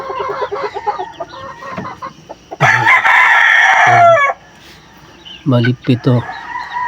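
A rooster crows loudly and close among hens clucking in a dim coop where a broody hen sits on eggs, someone talking between the bird calls.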